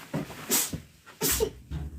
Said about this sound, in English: Well, I gotta sneeze 1 second